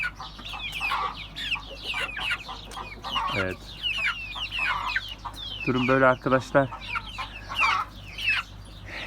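Young Turken, Ameraucana and village chicks cluck and peep close by in a coop, a quick run of calls rising midway while someone talks over them.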